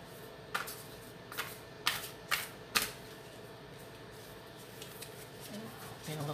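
Oracle cards are shuffled right against the microphone, giving a string of sharp riffling snaps and flutters in several bursts over a soft, steady background hiss; close and fairly loud, with no clear speech.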